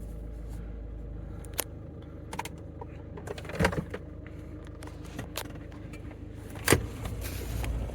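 Interior of a VW 1.6 TDI car being driven while it has a no-boost fault and flashing DPF and coil warning lights: a quiet, low road and engine rumble with scattered clicks and knocks and one sharper thump.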